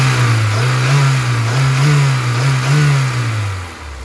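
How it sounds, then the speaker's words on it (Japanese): Honda S2000 AP1 engine revs steadily and close up, the pitch swelling and dipping through several throttle blips before easing back toward idle at the end. "アクセルのレスポンスもいいですし、吹き上がりも特に問題ない感じです"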